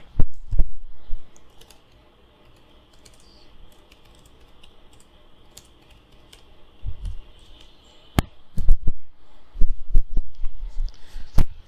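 Computer keyboard typing code, light scattered clicks and keystrokes at close range, sparse at first then picking up into quicker clusters of taps toward the end.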